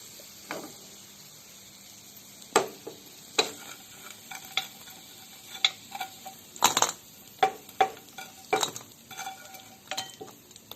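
Chicken fries in a pan for restaurant-style shawarma at home, with a soft steady sizzle under irregular sharp clinks and scrapes of a utensil stirring against the metal, close and quiet, with nobody speaking.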